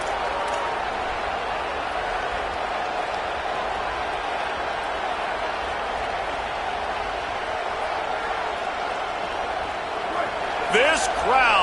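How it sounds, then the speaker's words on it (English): Loud, steady stadium crowd roar in an NCAA college football video game, a dense wall of cheering sustained throughout and swelling briefly near the end. "This crowd, full throat, splitting the eardrums"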